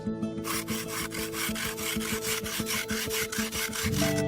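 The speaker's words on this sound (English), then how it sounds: "We need sandpaper. Should we try sandpaper?" Sandpaper rubbed over fresh black paint on a 1983/84 Keith Haring mural, a close, regular back-and-forth scraping rasp with strokes about every quarter second, heard alone.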